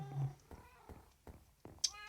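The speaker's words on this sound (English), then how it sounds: "Hey, cat." A cat meows in a modded video game, a clear harmonic call near the end after a few soft thumps and low rumbles, heard alone at close range.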